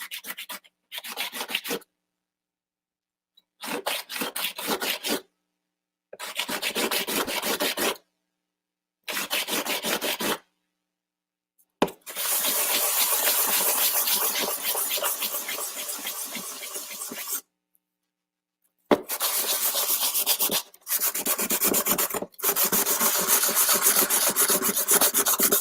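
Hand sanding a custom Star Wars lightsaber hilt to smooth out Dremel marks: steady raspy rubbing strokes in repeated bursts of a second or two, then longer continuous stretches, close and fairly loud with brief pauses between.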